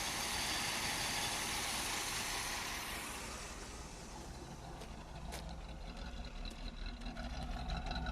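A 1979 Oldsmobile Cutlass with a 403 V8 runs steadily with a broad, hissing engine roar that eases back after a few seconds and then builds again, heard up close without voices.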